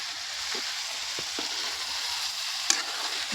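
Desi chicken curry sizzles and fries in a pan while being stirred, a steady quiet crackle broken by a few soft spoon scrapes and one sharper clink near the end.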